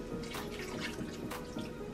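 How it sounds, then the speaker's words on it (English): Water poured from a tap into a bowl of marinade, a steady close splashing and trickling stream with a few drips, heard alone. "Then I'm going to add some water"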